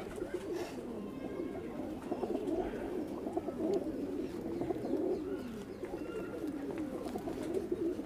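Pigeons coo in a soft, continuous rolling chorus close by, with repeated low throaty calls overlapping for the whole stretch and no talking.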